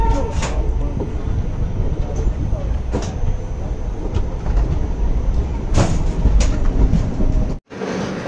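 Passenger train on a Maharashtra to Odisha journey, heard from inside the coach: loud continuous rumble with occasional rattles and clicks, voices faintly in the background, and a brief dropout near the end.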